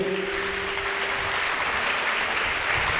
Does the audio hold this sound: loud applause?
yes